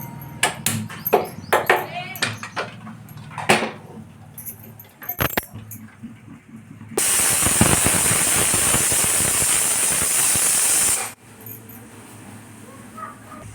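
A new pressure cooker, with rice and eggs cooking inside, gives a loud, steady hiss of steam for about four seconds after its whistles. Before and after the hiss there are clattery kitchen knocks and handling noises.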